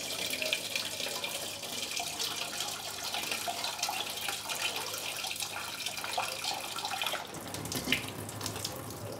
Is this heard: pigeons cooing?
no